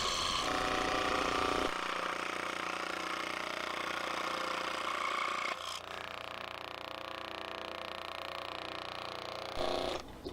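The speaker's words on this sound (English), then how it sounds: "And then cutting it on my little Dremel" A small Dremel rotary tool cutting wood whines at a steady high pitch, with a brief pause and a change in tone partway through, then winding back up.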